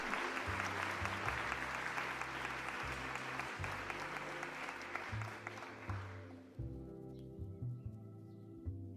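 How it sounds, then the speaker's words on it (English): Quiet applause from a small group during a live game-development stream, a fast patter of clapping that fades out after about six seconds. Low tonal background sounds continue underneath. "Can we give a round of applause to Hector?"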